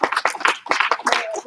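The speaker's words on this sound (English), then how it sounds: "1 clap, 2 claps." A class of children claps in a classroom: quick, close, fairly loud claps in short bursts, a single clap followed by a pair, repeated in an irregular rhythm.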